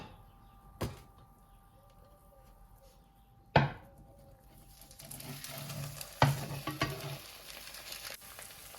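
A few sharp knocks and clatters sound nearby, then a soft sizzling hiss of a lavash pie with tomatoes and grated cheese frying over low heat in a skillet builds and continues quietly.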